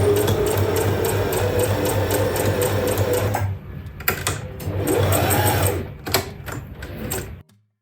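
A sewing machine stitches a drawstring onto a muslin kaftan, a fast close mechanical chatter that runs steadily, pauses, then resumes in shorter bursts before stopping.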